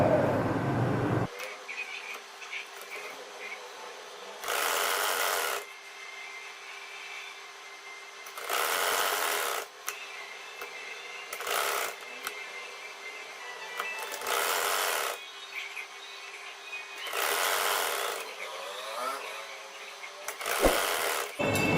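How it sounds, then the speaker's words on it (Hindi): Bursts of whirring from a sewing machine stitching a salwar poncha, arriving in about six separate runs of a second or so each, with quiet pauses between them, fairly faint and close. "तो चलिए सिलाई लगाते हैं।"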